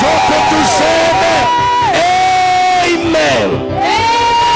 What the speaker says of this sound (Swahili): Tunafanya shangwe na vigeregere kwa Bwana Yesu